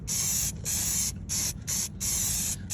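Copper coat gasket sealant sprayed from an aerosol can onto a header gasket in short, loud, close hissing bursts, about five in a row separated by brief gaps, with no voices.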